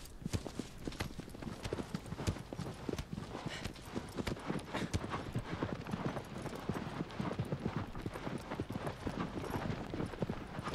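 Horse hooves clip-clopping at a steady trotting rhythm in the video game Shadow of the Colossus, continuous and fairly close across the whole stretch, with faint voice in the background.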